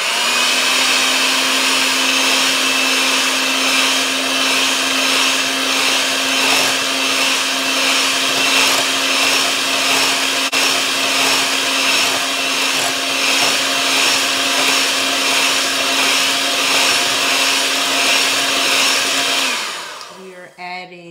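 An electric hand mixer whirs steadily as it beats keto chocolate chip walnut cookie dough with an added egg, a loud continuous motor drone that holds for about twenty seconds before winding down at the end.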